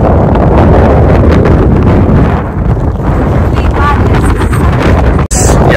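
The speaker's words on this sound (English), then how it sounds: "Well, it's very windy." Strong wind roars across the microphone at an Irish coastal viewpoint, loud and steady with buffeting gusts and a brief drop near the end, and a voice speaks faintly beneath it.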